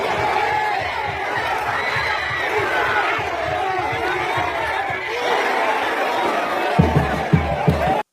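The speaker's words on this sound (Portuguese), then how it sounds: "deixando a torcida alvoroçada" Stirred-up football stadium crowd at a Brazilian Série D match between Parnahyba and Tocantinópolis, a dense continuous roar of many voices with chants and shouts, steady and loud throughout, swelling slightly near the end.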